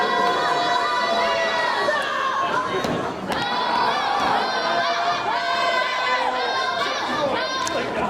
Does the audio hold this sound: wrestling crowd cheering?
yes